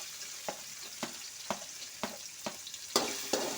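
Carrots sautéing in a pan with ginger-garlic paste for egg rice, a soft steady sizzle broken by regular spatula scrapes about every half second, growing a little louder toward the end.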